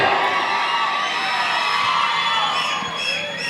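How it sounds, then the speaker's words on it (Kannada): A live audience at a Kannada reality-show event erupts in loud, sustained cheering and crowd noise, with whoops and shouts rising over a dense wash of sound that holds steady throughout. "ಒಂದು ಜೋರಾದ ಚಪ್ಪಾಳೆ."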